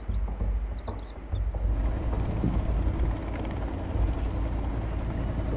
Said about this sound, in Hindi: मेरा हेलीकॉप्टर उड़ रहा हाँ है मेरा पहले